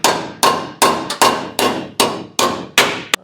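Metal being hammered on the firewall of a 1937 Lincoln Zephyr: eight sharp, ringing blows at an even beat, each strike decaying quickly before the next, with no voices.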